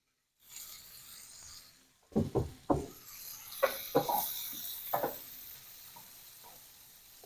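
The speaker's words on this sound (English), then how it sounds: "I'm adding onions to the bacon fat" Chopped onions dropped into hot bacon fat for sautéed collards: a soft hiss first, then several sharp sizzling bursts and scrapes as they hit and are stirred, easing into a lower steady fry.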